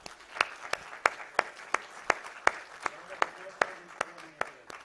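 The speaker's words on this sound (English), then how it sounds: "please could we have a round of applause for our panelists" A round of applause for panelists at an open forum on an all-electric and connected society, heard as a small audience's distinct, fairly sparse claps in a steady rhythm, close and moderately loud.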